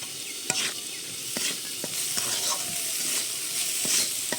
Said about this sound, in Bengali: মুগ ডালটা দিয়ে একটু নেড়ে চেড়ে নিয়েছি।